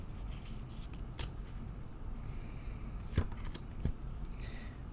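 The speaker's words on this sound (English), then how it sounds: "I shuffle until Spirit asks me to stop." Tarot cards are shuffled close by in soft riffling bursts with a few sharper slaps of card against card over a quiet room hiss, and no one talks.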